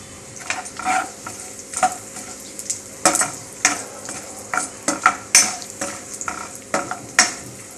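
Asafoetida goes into a hot tempering with cashews in a pan for green moong khichdi, sizzling steadily under repeated clinks and scrapes of a stirring spoon, close and with no talk.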